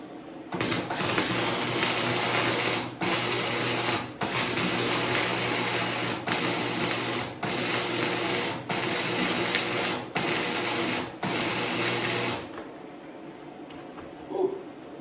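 Welding on a DIY gantry frame gives a loud, steady crackling buzz in repeated bursts of about a second each, separated by brief gaps, then stops and leaves near silence for the last few seconds.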